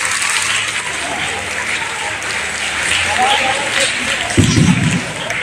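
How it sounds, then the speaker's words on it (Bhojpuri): An audience at a district yoga competition closing in Deoria claps together, a dense, continuous wash of applause that holds steady throughout, with a brief louder burst near the end. "ताली बजाइए।"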